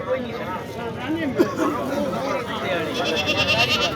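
A four-month-old crossbred goat bleats with a wavering, nasal call amid a busy crowd at the Talagang goat market in Pakistan, voices murmuring around it throughout.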